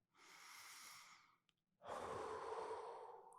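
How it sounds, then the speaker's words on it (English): Two slow, deep breaths taken close up and quietly, a long airy inhale followed after a short pause by a stronger, fuller exhale. "Close your eyes and start taking some slow, deep breaths."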